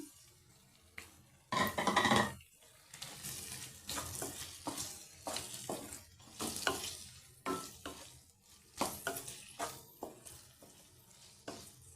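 Raw Krishna river prawns hit hot oil after fried onions, giving a loud sizzling burst that settles into irregular frying crackle with repeated stirring scrapes of a spoon against the pan, close and without talk.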